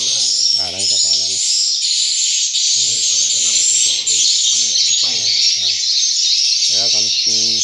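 Shrill, high-pitched chirping from swiftlet chicks at a swiftlet farm in Nha Trang, Khanh Hoa, Vietnam fills the whole clip without pause, while bursts of nearby speech come and go underneath.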